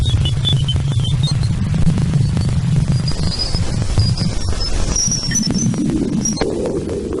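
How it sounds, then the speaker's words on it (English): Hollow, droning electronic tones made from space telescope light data throb steadily with faint high whistling streaks and static-like crackle, an eerie continuous sonified hum. "The light was transformed into sound. The result was hollow tones that echo like distant cries."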